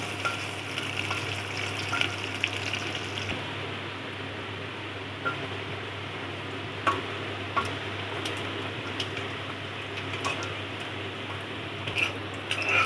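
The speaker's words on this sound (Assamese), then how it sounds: "পিঁয়াজখিনি যেতিয়ালৈকে ৰঙচুৱা হৈ নাযায় তেতিয়ালৈকে ভাজি থাকিম" Onions hiss in oil in a pressure cooker for a long stretch until they brown, making a constant low sizzle with occasional clicks and stirring scrapes. A steady mechanical hum runs underneath, and there is no talk.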